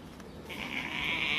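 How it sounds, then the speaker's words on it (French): An Ouessant sheep ram gives a single short bleat, fairly close and rising out of quiet outdoor background. "Donc ça c'était le mouton d'Ouessant, là c'était le bélier."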